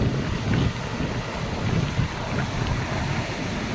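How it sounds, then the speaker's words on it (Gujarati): Sea waves wash ashore at Mastram beach, a steady rushing surf mixed with gusty wind buffeting the microphone, fairly close and continuous without speech. "મોટી વેળ આવી જો"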